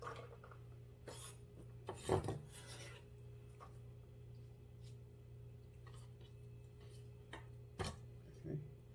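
Knife on a cutting board slicing vegetables such as green onions for kkakdugi radish kimchi: a few sharp, scattered chops and rasping cuts, close and fairly quiet, with a voice speaking over them.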